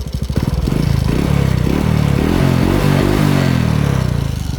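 A used motorcycle for sale, a Honda Wave-type small-displacement bike, idles and runs steadily nearby with a low, even engine throb and a few light rattles, no talk over it.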